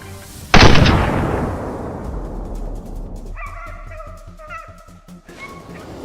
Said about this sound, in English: The moment the boar stepped into view, John didn't hesitate. One clean shot sealed the deal.